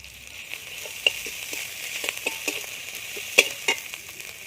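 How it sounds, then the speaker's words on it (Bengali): Fried onions hissing in a pan as ginger paste goes in, a soft steady sizzle broken by light scraping stirs, close and with no voices. "পেঁয়াজটা লাল ভাজা হয়ে গেছে এবার দিয়ে দেবো আদা বাটা"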